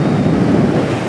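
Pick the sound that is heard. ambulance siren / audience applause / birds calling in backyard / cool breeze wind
cool breeze wind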